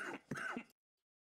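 A single short throat-clearing cough from an adult with bronchitis, close and fairly quiet, lasting well under a second and followed by silence.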